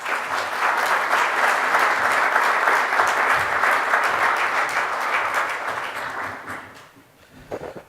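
Steady, sustained clapping from a meeting audience at the National Petroleum Council as Secretary Ernest Moniz is welcomed, loud and even for several seconds before tapering off into a few scattered claps.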